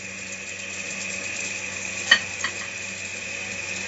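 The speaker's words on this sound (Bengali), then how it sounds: "এরকম ভাবে মশলার সাথে পাস্তাটাকে মিশিয়ে নিচ্ছি" Pasta tossed with spices in a pan: a low steady sizzle with a steady hum beneath, and one or two brief spatula scrapes midway, close by.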